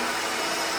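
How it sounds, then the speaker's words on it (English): A loud, steady grinding roar of a tube notcher cutting metal tubing for a sand car build, harsh and continuous with no pauses. "sorry about the noise, Joe's on the notcher"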